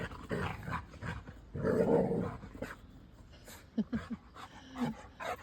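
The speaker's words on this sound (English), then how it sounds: "You're a big daft dog" A dog close by makes a mix of low growls, whimpers and short huffing barks in irregular bursts, with quieter rustling between them.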